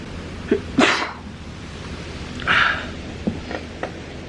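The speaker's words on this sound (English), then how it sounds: "I gotta sneeze." A single sharp sneeze bursts out, followed by a softer second burst and a few small clicks and rustles in a quiet room.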